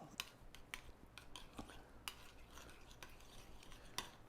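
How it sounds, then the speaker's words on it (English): Adobo sauce seasoning is stirred through food in a pan for a shrimp burger, giving soft scraping and occasional light clinks of a utensil against the pan, fairly quiet with no voices. "Give that a good stir."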